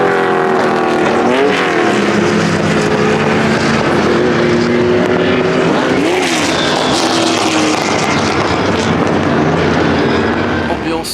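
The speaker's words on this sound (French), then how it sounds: "Je crois qu'il y a des voitures un petit peu bruyantes qui vont passer là" Loud cars pass close by with roaring engines, two rising and falling pass-bys standing out over a constant heavy engine drone.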